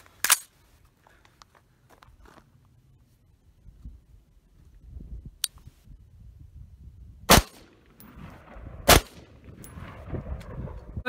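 AR-15 rifle gunshots, several loud, sharp reports spaced seconds apart outdoors, with fainter clicks and handling noise between them.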